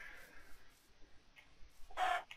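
Chickens in Minecraft give short clucks, a faint one early and a louder cluck near the end, sparse and close with no talking.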